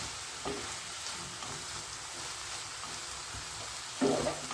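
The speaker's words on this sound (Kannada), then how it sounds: "ಇದನ್ನ ಚೆನ್ನಾಗಿ ಮಿಕ್ಸ್ ಮಾಡ್ಕೊತಾ ಇದ್ದೀನಿ" Banana flower stir fry being mixed in a pan, a soft steady sizzle with faint scraping of the stirring, close and quiet with no voices.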